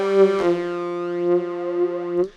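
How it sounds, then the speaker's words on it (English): A held synth chord runs through a flanger, with comb-like sweeping harmonics creating a jet-like whoosh; a brief attack at the start and a cutoff near the end. "So that is the sound of a flanger"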